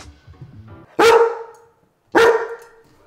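Dogs bark while playing, two loud, close barks separated by a pause of about a second, with quieter low shuffling sounds before the first.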